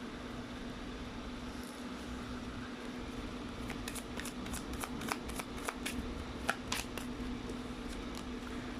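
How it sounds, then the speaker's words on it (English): Tarot deck being shuffled close by over a steady background hum, with a run of quick crisp riffling flicks and card taps in the second half. "Let's try to pull up more cards."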